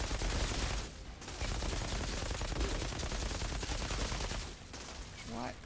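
Sustained automatic gunfire in the shooter video game Outriders, a loud continuous rattle of shots with two brief pauses, dense and close.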